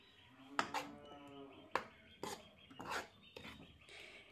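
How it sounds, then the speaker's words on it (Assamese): A spoon scrapes and clinks against a kadai while tomato and palak paste with potatoes is stirred, giving a few sharp metallic taps between softer scraping, faint and close. "2 মিনিটমান মই এনেদৰে ভালদৰে লৰাই থাকিম যাতে পেষ্টটো কেৰাহীটোত লাগি নাযায়।"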